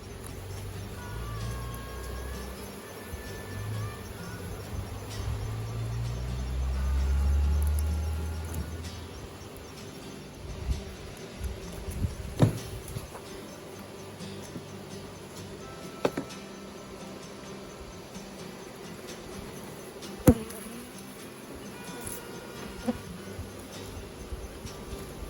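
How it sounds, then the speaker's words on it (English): Bees hum at a beehive, a faint, steady, low buzzing drone that continues throughout with occasional small knocks and rustles, no talking. "It's a bunch of bees."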